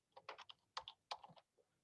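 Computer keyboard typing, a few quick bursts of keystrokes close by and quiet, with short gaps between the clusters and no voices.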